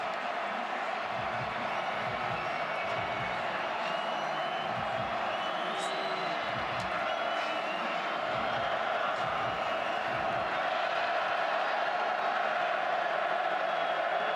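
A football stadium crowd roars steadily in the background at a college game, a broad continuous swell of cheering and noise beneath a commentator's voice.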